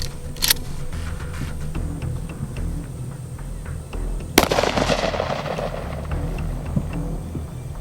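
A 12 gauge Serbu Super Shorty shotgun loaded with 2 3/4 inch 8 shot fires one sharp, loud blast outdoors, followed by a decaying echo over steady background noise.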